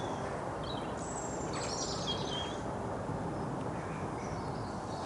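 Birds sing outdoors against a constant, heavy rushing background: a few thin, high chirps and short trills drift in at a distance, faint and scattered, with no voices.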